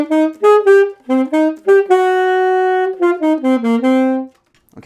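Alto saxophone playing a melody with every note tongued in an exaggerated, choppy way, producing short detached notes and one longer held tone, heard alone and close.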